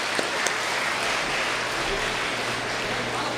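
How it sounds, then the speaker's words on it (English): An audience at an engineering college event gives a round of applause, a dense, even wash of clapping from a large crowd, loud and sustained throughout. "So a round of applause."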